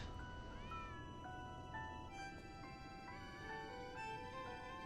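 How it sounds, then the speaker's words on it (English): A cat in the video game Lies of P meows in a string of drawn-out, wavering calls over a steady wash of background music and ambience. "Pet cat."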